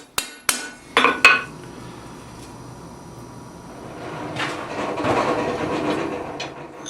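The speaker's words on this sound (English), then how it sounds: "use the remaining heat to start driving in the drifts that are going to be used to size the hole" A hammer strikes a drift into a freshly punched hole in hot steel bar at the forge, giving four sharp ringing blows in quick succession, followed by a duller rustling and scraping background.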